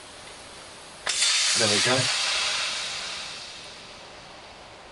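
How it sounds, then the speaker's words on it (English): Bleed valve on a Hills EC-3000 evo air compressor vents pressure and sprays silicone, a sudden loud hiss lasting about two seconds before tapering off, with a brief spoken remark during the burst. "we're going to release the pressure in this part of the compressor as well. And there's this little bleed valve there"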